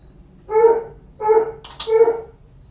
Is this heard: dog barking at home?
yes